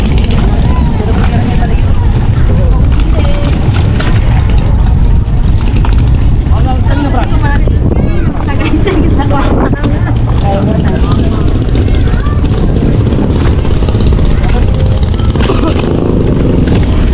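Small outboard motor on a boat running steadily near mangroves around the islands of Alaminos, Pangasinan, a continuous loud engine drone with people talking over it.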